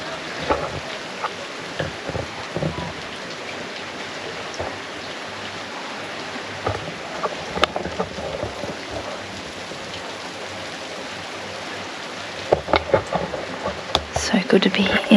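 Steady rain patters on the tin roof of a cabin in Freycinet National Park, Tasmania, a constant hiss with sharper drips and taps, while people talk quietly in the background.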